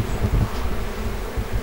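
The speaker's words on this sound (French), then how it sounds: "Tiens, regarde le frelon asiatique là." An Asian hornet buzzes close by in the open air near beehives in the Landes, a short steady drone.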